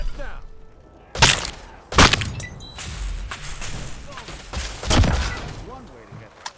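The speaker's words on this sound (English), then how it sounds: "I guess the gunfire attracted the locals" Gunfire in Fallout 4 during a raider fight: several sharp, loud shots ring out at irregular intervals, with a rattle of smaller impacts and game noise in between.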